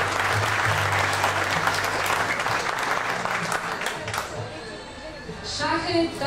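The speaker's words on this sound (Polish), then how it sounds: "Jeszcze raz ogromne brawa" Sustained applause from an audience at a 2019 sports gala, dense clapping filling the whole stretch and thinning slightly toward the end, with a low hum and brief talk in the room beneath it.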